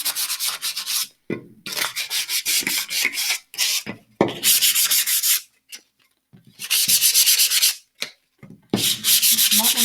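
Hand sanding a wooden picture frame with P240 sandpaper, a close, rhythmic scratchy rubbing in repeated strokes with short pauses between them.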